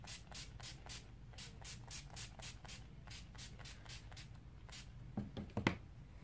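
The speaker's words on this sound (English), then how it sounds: "So then I go in with my NYX First Base Primer Spray." NYX First Base Primer Spray hisses out in a quick series of short, crisp mist bursts with an even rhythm, close up and soft, followed by a few faint handling clicks.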